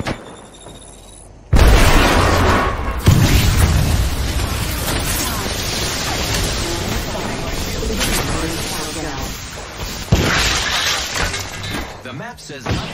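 A grenade goes off in the Apex Legends battle royale game: a sudden loud burst followed by sustained rumbling, crackling debris and further impacts, with game voices talking over the noise.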